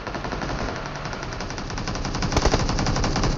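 Rapid automatic gunfire in a battle royale video game, dense continuous bursts of shots rattling loudly without pause, with no voices.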